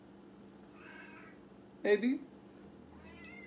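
A house cat meows once, a short clear call close to the microphone, between quiet stretches of soft talk from a person nearby.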